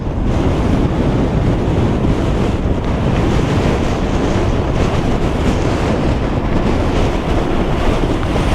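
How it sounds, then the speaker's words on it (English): Loud, constant wind buffeting the microphone, a dense roaring rumble with no pauses, from about 20 mph sustained desert wind in Pahrump. "We got about a 20-mile-an-hour sustained wind here."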